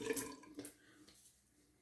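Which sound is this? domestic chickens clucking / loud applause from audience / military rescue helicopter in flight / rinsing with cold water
rinsing with cold water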